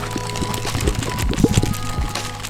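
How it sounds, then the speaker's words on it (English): Corn and molasses deer feed mix being poured onto the ground near a feeder in a line, a steady close granular pour with irregular clumpy bursts, alone without talk. "So now you just pour it in a line from 2 feet from the feeder to really however far."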